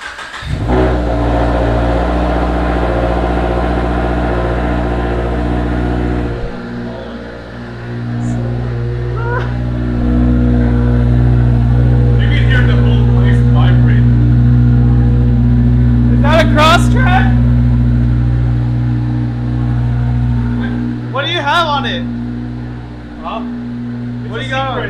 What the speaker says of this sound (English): Let's hear that cold start.